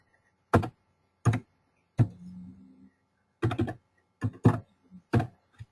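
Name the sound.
typing a number on a computer keyboard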